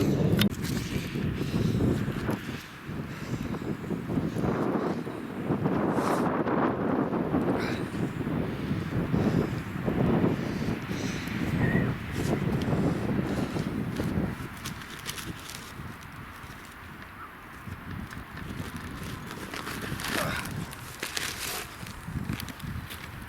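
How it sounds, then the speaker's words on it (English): Gusty wind buffets an allotment plot on a cold December day, a loud continuous roar with rumbling surges and rustling throughout. "The breeze has picked up and it's now turned cold."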